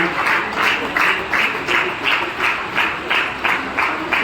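A crowd claps in a steady, rhythmic unison beat at an award and felicitation ceremony for committee members in Kawardha. The even pulses hold loud and close for the whole stretch, with no clear talk on top.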